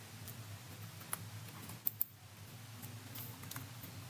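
Light, quick keystrokes on a computer keyboard, a number being entered, with a couple of sharper taps standing out over a soft steady background hum.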